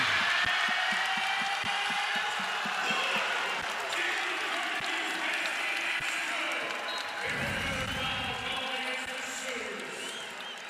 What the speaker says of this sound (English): everyone in this entire stadium is cheering on the top of their feet